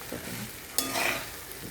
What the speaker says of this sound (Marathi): आता मी घालते धुवून घेतलेले पोहे आणि हे छान परतून घ्यायचे.